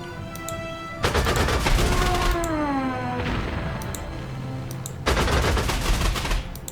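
Anti-air gunfire in the Panzer Corps 2 strategy game: two loud, close bursts of rapid shots, one near the start and another a few seconds later, with a ringing tonal whine and quieter effects between.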